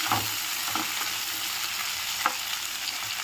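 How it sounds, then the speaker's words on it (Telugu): Ivy gourd (dondakaya) pieces frying in a hot tempering of spice seeds, a constant bright sizzle with a few scraping stirs of the spoon, close and steady, no talking. "కట్ చేసి పెట్టుకున్న దొండకాయలు ఒకసారి మిక్స్ చేద్దాము"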